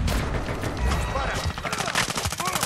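Dense gunfire in the video game Call of Duty Modern Warfare II, rapid repeated shots with heavy low booms over a busy combat mix.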